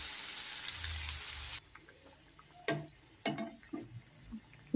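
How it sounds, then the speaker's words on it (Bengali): Hot water is poured into a frying pan of spiced fish gravy, a loud hissing sizzle at first that cuts off, followed by quieter scattered clinks and bubbling pops close by. "এরপরে আমি গরম জল দিয়ে দেবো।"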